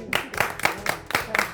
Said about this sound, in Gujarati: આ ભાઈ આપણા હિરોઈનો માટે જોરદાર તાળીઓ થઈ જાય એકવાર